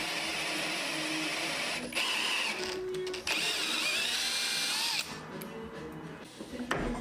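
A power drill fitted with a 22mm Irwin Blue Groover auger bit bores into wood for an assembly table frame, its motor whirring in bursts with pitch changes as the bit bites and eases off.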